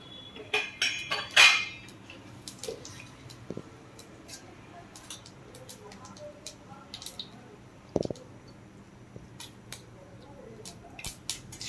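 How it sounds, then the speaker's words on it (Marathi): Rice fried in a pan with cumin, mustard seeds, coriander-cumin powder and curry leaves, heard as light metal scraping and clinking of a spoon against the pan, with a brief burst of sizzle early on and occasional sharper knocks. "हे तांदूळ जरा परतून घ्यायचे"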